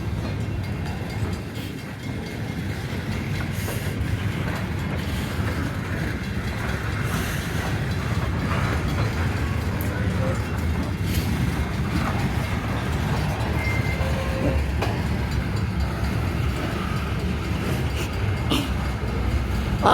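Loaded coal train rolling around a curve in light snow at Mount Hope, its cars passing in a steady, loud rumble with faint rail clatter and wind noise throughout.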